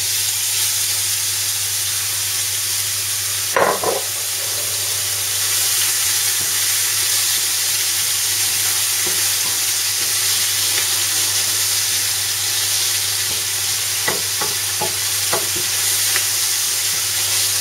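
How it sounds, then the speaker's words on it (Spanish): Minced garlic and onion frying in a pan for chicken tikka masala give a steady, close broadband sizzle, with a few short stirring scrapes and clinks breaking through and no talking. "pondremos el ajo picado hasta que se empiece a dorar y cuando se empiece a dorar pondremos la cebolla"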